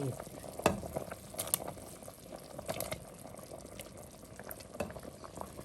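Shallots and garlic fry in a pot with a soft, uneven sizzle broken by scattered stirring clicks and brief clatters, quiet and close.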